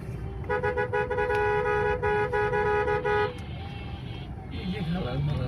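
Car horns honk repeatedly in busy road traffic heading toward Gabtoli in Dhaka, one long sustained blast followed by shorter toots, loud and close over engine rumble.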